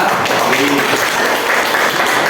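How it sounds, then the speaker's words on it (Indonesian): A classroom group claps for a student who answered a question, a short loud patter of hands filling the room at a steady level throughout. "tepuk tangan buat si Sasa"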